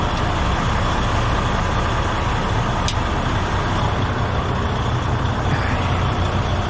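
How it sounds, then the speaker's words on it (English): A truck idles loudly and steadily nearby, its engine hum constant and broadband, with a thin high-pitched whine or squeal briefly cutting through. "with this truck running"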